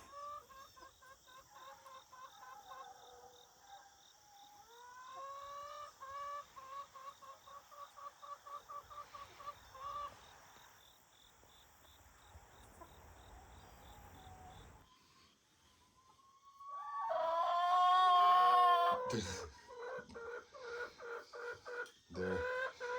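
Several chickens in a backyard flock cluck in steady rhythmic bursts through a fence, then one bird lets out a loud drawn-out crow, with insect-like chirping lingering underneath.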